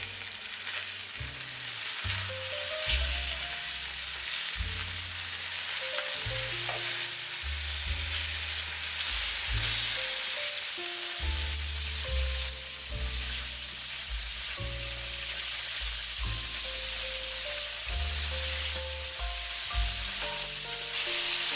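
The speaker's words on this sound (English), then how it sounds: "Let it grill for 3 minutes. Gently turn them over." Teriyaki salmon fillets sizzle steadily in a hot pan, a dense continuous frying hiss with crackle, close and fairly loud throughout, with soft background music underneath and no talking.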